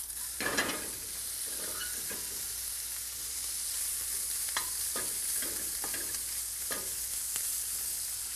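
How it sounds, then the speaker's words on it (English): Bacon sautés with a little oil in a pan, a steady soft frying hiss with several scattered stirring scrapes, close and fairly quiet. "So we just saute it for a few seconds even."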